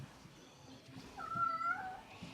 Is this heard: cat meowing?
yes